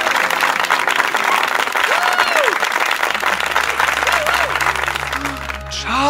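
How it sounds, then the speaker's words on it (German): An audience breaks into sustained, dense applause that continues steadily through the whole stretch, loud and close, with faint speech beginning near the end. "Bitte einen kräftigen Applaus."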